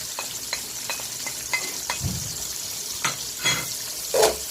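Garlic sizzles in hot oil with onions in a pan for pork ribs caldereta, a steady soft frying hiss broken by a few louder stirring scrapes and spatters near the end.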